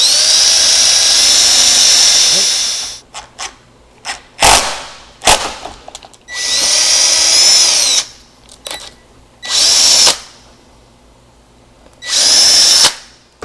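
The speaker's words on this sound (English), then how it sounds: "use the side of my workbench to line this up to pre-drill some holes to get this in place" A power drill pre-drills holes into a DIY router sled kit lined up against a workbench, loud whining bursts of varying length separated by pauses, clicks and handling noises.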